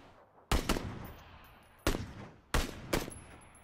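Gunshots ring out in a video game during a long-range sniping attempt: three sharp, loud reports at uneven intervals, each trailing into a brief echoing tail, with a short follow-up crack after the first and last.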